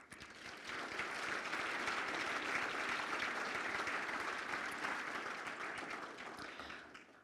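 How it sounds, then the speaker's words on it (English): An audience at a fire division awards banquet gives a sustained round of applause, a dense, even wash of many hands clapping that rises quickly, holds for several seconds and tapers off, heard from a distance. "Let's give a round of applause."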